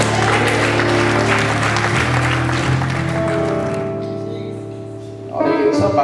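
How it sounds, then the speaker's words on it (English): Church congregation clapping hands during a lively worship service, loud and dense over sustained organ-like tones, thinning out midway before a brief burst returns at the end. "Somebody clap your hands."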